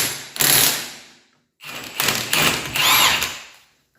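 A big impact wrench hammers at a 1.25 inch rear axle nut on a Yamaha Rhino, two loud rattling bursts split by a short pause, close and alone.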